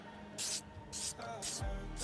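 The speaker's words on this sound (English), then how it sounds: "I always like to start spray painting a little bit before, so like push right here, and then nice clean swoosh" Spray paint can hissing in three separate bursts while coating 3D-printed Lego blaster parts, each long swoosh broad, bright and close, with short quiet gaps between them.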